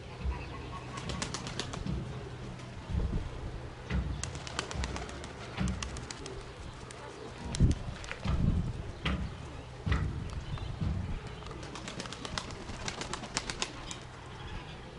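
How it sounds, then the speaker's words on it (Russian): A young pigeon fledgling coos softly and flaps its wings in short bursts, with quiet outdoor background between the flutters. "Точнее, не голубка, а голубенок практически."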